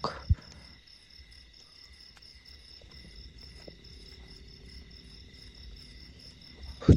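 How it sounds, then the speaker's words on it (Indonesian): Crickets chirp steadily through the night around a campsite hut in the woods, a dense, continuous high trilling at fairly low level, with a couple of faint knocks and no talk. "Jangkrik."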